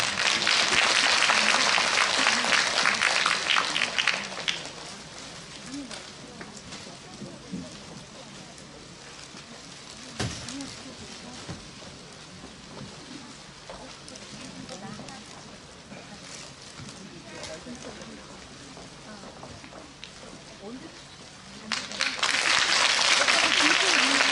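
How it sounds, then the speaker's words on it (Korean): At a Korean girls' high school alumni festival forum, the audience greets the alumni association president with loud applause, a strong burst at the start, a quieter stretch with voices and stray noises, then a second burst at the end. "큰 박수로 맞이해 주시기 바랍니다"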